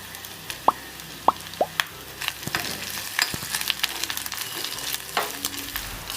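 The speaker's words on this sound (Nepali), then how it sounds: "2 वटा सुकेको खोर्सानी हालेर मजाले चलाए।" Ginger-garlic paste and dried red chillies fry and sizzle in a pan, with spoon stirs, scrapes and a few plopping drops, close and moderately loud.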